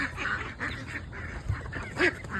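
Ducks and geese honk and quack repeatedly at close range, with several loud calls in irregular bursts over a steady background.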